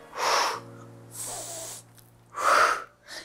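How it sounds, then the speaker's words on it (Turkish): Deep, airy breaths in and out during an abdominal workout, three strong broadband bursts with quieter gaps between them, heard close with a faint steady hum underneath and no talking. "Nefes alıyorum ortada"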